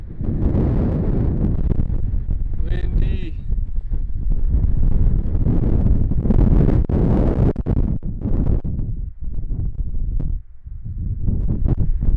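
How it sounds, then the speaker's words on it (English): Strong wind roars across the microphone on an exposed mountain ridge in Yosemite's Cathedral Range, a loud, continuous buffeting rush that swells and dips, with a brief faint tone partway through. "Windy."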